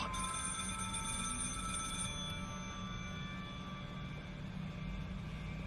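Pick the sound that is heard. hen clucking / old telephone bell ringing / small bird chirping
old telephone bell ringing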